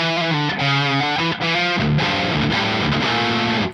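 Electric guitar lead through a ParaEq MKII boost, with a mid-forward tone on the edge of breakup. Sustained melodic notes and bends ring out loud and close, played alone.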